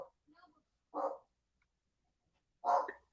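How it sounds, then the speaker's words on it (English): A dog gives two separate sharp barks about a second and a half apart. Both are quiet, with near silence between them. "Dog starts barking."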